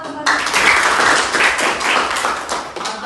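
Applause for a presenting group in a classroom, a burst of many hands clapping close and lively, starting abruptly and continuing for about three seconds.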